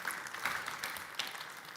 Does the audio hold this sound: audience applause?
yes